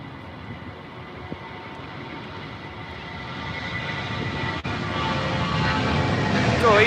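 Etihad Boeing 777 jet at Heathrow Airport, a distant engine roar that slowly builds in loudness as it powers up, heard alone outdoors.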